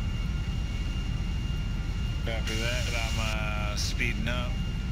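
An airplane engine in Grand Theft Auto V roars at full throttle over a city, a dense, steady drone throughout while a voice speaks briefly partway through.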